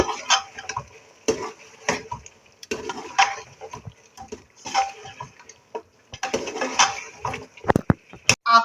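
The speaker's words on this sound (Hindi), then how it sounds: "मैं 3 से 4 टेबल स्पून है दही के जो हम शामिल करेंगे और इसको मिक्स करेंगे अच्छी तरह से" A spoon stirs yogurt into mutton masala in a pan with repeated scraping clinks against the metal, under a faint sizzle.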